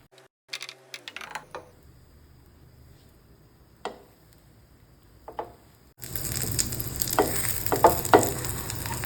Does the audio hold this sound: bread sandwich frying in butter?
yes